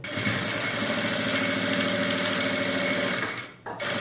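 A sewing machine runs steadily, stitching a transparent plastic pocket onto a baby's toiletry bag with a portable changing pad, its fast, even mechanical whir close and continuous before stopping abruptly near the end.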